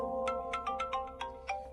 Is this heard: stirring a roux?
no